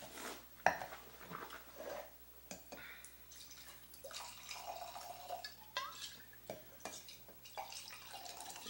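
A wine glass rinsed with a small splash of liquid, giving faint, quiet swishes and light drips with a couple of soft glassy clinks in a hushed room.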